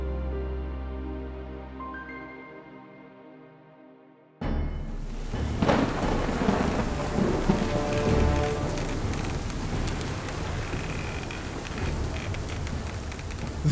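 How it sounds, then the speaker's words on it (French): A violent storm over the sea around the Juan Fernández archipelago: after a few seconds of soft sustained tones, a dense hiss of heavy rain and rough water bursts in and continues loudly throughout. "une violente tempête secoue les flots de l'archipel Juan Fernandez"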